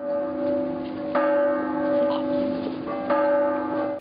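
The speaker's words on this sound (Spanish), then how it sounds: "el ancestral concierto de campanas regresa a la ciudad de Cholula" Church bells ring in a traditional bell concert in Cholula, Mexico. Sustained tolling with two stronger strikes rings out clearly and fairly close, with no voices.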